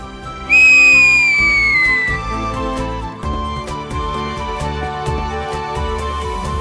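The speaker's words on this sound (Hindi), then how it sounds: "देखो सीटी ऐसे मारते हैं।" In a scene from a Hindi TV comedy serial, a person gives one loud, sharp whistle that slides gently downward in pitch and lasts about a second and a half. Light background music with a beat follows.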